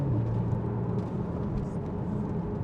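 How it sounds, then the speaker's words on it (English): A steady engine drone inside the cabin of a 2013 Porsche Boxster S 3.4 with PDK gearbox, continuous and fairly loud, with a low hum that shifts pitch slightly as the gear changes. "A little woof as it changes gear"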